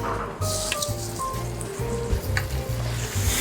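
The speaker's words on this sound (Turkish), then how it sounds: "artık şu aşamada etlerimi de tavaya alıyorum" Finely chopped lamb sizzles and crackles steadily in a hot pan, with occasional clinks and stirring noises close by.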